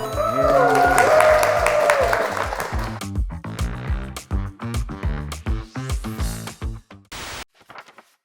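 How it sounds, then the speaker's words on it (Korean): An audience at an Amorepacific quiz event breaks into a short burst of applause over music, then a voice begins talking as the clapping fades. "박수 한 번만 들어주세요."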